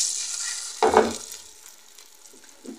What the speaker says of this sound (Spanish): Dejamos freír